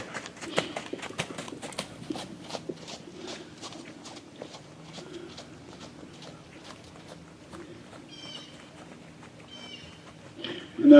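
Horses' hooves clip-clop at a walk during an outdoor show-jumping riding clinic, a steady soft rhythm of footfalls with an instructor's voice talking over them and faint birdsong toward the end.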